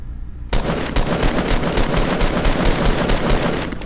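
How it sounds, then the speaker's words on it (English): Fortnite gunfire on PS4 bursts in suddenly and continues as a loud, dense stream of rapid shots that blur into a sustained roar for over three seconds, close and dominant, with no voices. "There I was kind of shooting the gun slower, tapping bullets."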